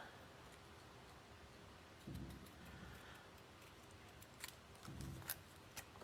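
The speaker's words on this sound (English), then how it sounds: "So I'm going to cut in a banner and just tail that." Scissors snipping through paper to cut a banner end for a handmade greeting card, two short muffled cutting passes close to the microphone over quiet room noise.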